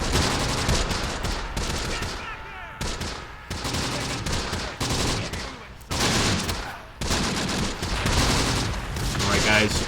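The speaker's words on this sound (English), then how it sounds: "We're going to open up, open fire." Bursts of rifle and machine-gun fire from the Close Combat war game crackle in rapid, overlapping volleys, broken by brief pauses, with distant booms and a voice talking now and then.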